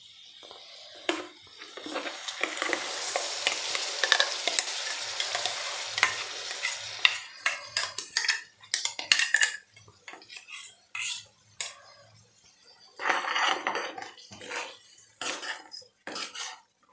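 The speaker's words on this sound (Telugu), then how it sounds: "తిప్పుకుందాం ఒకసారి కిందకి పైకి. పచ్చి వాసన పోయే వరకు కొంచెం వేపుకుందాం." Tomato puree fries in a pan for paneer curry while a utensil stirs and scrapes it. The close, irregular clinks and scrapes come in bursts over a soft, steady sizzle, with no talking.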